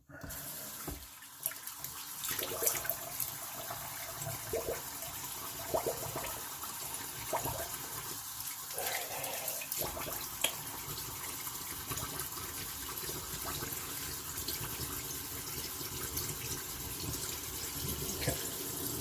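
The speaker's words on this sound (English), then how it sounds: "I'm going to do a cold water rinse" Tap water runs steadily into a sink for a cold rinse after a wet shave, a continuous close gush and splash that holds level throughout with no voices.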